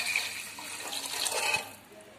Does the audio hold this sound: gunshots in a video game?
no